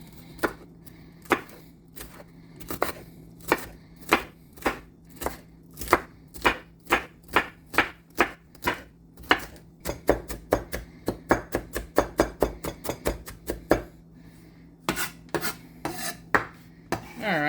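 A big kitchen knife chops raw salmon on a board for homemade salmon burgers. Sharp, distinct strokes land in a steady rhythm, then quicken into a fast run of closely spaced chops before a few slower final hits.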